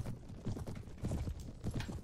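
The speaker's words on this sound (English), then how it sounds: "They have some good horses." Horse hooves clip-clop in the Perisno mod of a medieval battle game, a quick uneven run of soft thuds that comes across faint and somewhat muffled.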